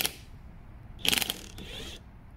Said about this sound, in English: I can just remove the top bolt.